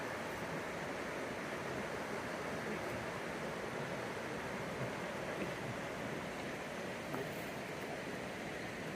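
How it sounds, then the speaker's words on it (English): Steady broadband rush of the flowing American River, continuous and even throughout with no breaks, close and moderately loud. "we're back to the flowing American River"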